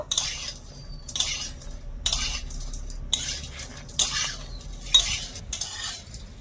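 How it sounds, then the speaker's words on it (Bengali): Homemade wheat-flour snacks are tossed with sugar in a pan. A spoon scrapes and clinks against the metal in repeated bursts about once a second, with a faint sizzle underneath. "আর সাথে দিচ্ছি আমি কিছুটা চিনি ভালো করে মিশিয়ে নেব"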